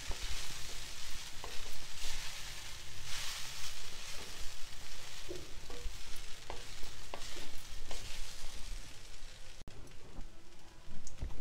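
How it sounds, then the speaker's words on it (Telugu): Poha (flattened rice) being stirred in a pan: continuous sizzling with repeated close scraping and tossing strokes, rhythmic and fairly loud throughout. "వీటిని చక్కగా కలుపుకోవాలి."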